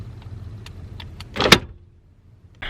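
Power window motor on a Toyota Cressida passenger door, working with the door panel off, gives a short whirring burst with a clunk near the middle, followed by quiet and another motor whir starting at the end.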